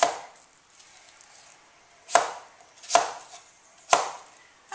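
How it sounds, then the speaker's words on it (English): Fresh apples being chopped into chunks for chutney, four crisp knife strikes on a board at roughly one-second intervals after a quieter start, close up with no talk. "And then chop it into nice chunks that will go in my chutney."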